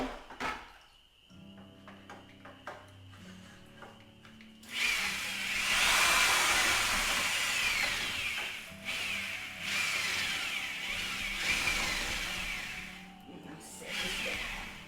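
An electric drill whirs in extended bursts with brief pauses, preceded by clattering handling noises and a low hum; loud and close.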